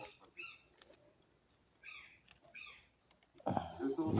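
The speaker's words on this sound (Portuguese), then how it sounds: "E os passarinhos estão gritando, porque é perto das 7 da manhã agora" Birds call outside around seven in the morning on a rainy day, scattered bright chirps in short bursts heard indoors, followed at the end by a louder low rustle.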